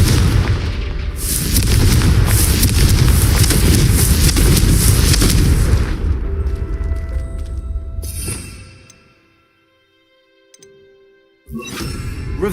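In Hogwarts Legacy, a fiery Confringo spell explosion bursts out as a loud, sustained roaring blast lasting several seconds. It fades to near silence, then another burst of noise follows.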